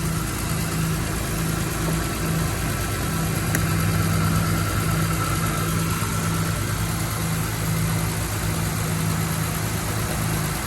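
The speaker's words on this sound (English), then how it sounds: "I don't know if you can hear me with the engine running" A BMW car engine idles steadily throughout with a constant low hum, loud and close, with no talk over it, during an air-conditioning recharge.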